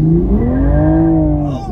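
A Toyota Supra tuned with E85, an intake, a downpipe and a JB4 accelerates hard with wheelspin, its engine note rising loud and close in a short, strained pull.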